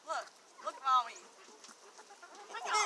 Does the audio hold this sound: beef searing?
no